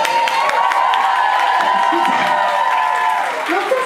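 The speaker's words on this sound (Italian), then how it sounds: "Facciamo un applauso alla leggenda di Marco." An audience at a vogue ball applauds a performer, with loud, dense clapping, cheers and whoops filling the room, and voices shouting over the crowd.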